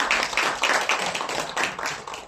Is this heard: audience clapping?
yes